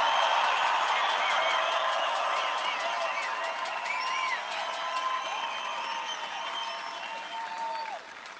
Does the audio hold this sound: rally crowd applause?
yes